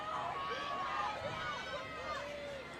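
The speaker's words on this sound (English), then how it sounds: "A lot of people cheering for Mary on the finished blocks here. Yeah, it is getting loud by the grandstands." Crowd cheering by the grandstands at the finish of a university rowing championship race, a steady dense roar of voices with shouts rising and falling, sustained throughout without a break.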